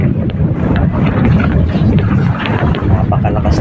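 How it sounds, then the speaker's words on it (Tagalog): Strong wind roars and buffets the microphone nonstop aboard a fishing boat moored at a payao at sea during Typhoon Mawar, loud and close, with a voice faintly underneath. "Napakalakas ng hangin"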